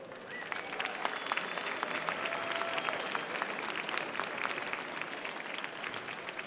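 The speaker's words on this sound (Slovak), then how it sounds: "otočte sa doprava, smerom k tomu balkónu a venujte im jeden veľký potlesk" Steady, dense applause from an awards-ceremony audience in a hall, many hands clapping together at moderate volume with no break, the sound fairly even and somewhat distant.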